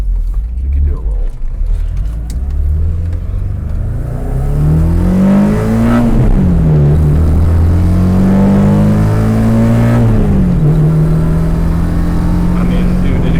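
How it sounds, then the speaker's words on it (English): A K-swapped BMW E30 accelerates hard through the gears, its engine note climbing, dropping at a shift and climbing again, heard loud and close from inside the car alongside a steady low road rumble. "it accelerates like crazy. Once you get up to the top of third gear, it feels really nice."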